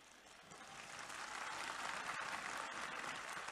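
A vast crowd of about 100,000 young people at Pope Francis's night vigil in Madagascar applauds continuously, a faint, distant wash of clapping that swells a little and holds steady.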